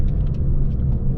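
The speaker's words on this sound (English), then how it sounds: "you can hear the exhaust." Škoda Laura vRS, stage 2 tuned with 285 bhp, accelerating hard: a steady, loud engine and exhaust drone fills the cabin with constant low rumble and faint higher whine throughout, with no talking.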